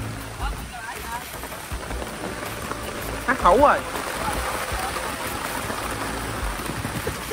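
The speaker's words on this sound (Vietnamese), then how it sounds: "Quá mưa mọi người ơi, ướt hết rồi." Rain pouring outdoors over a river, pattering steadily on leaves and water around a large mangrove apple tree, with a person talking briefly over the wash of the downpour.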